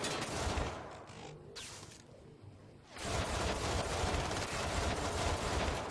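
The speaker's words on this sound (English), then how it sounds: "just a bunch of bad shooting right there" Gunfire in the Syndicate shooter game: dense bursts of rapid automatic shots, loud and continuous, briefly thinning in the middle before a heavy sustained fusillade resumes to the end.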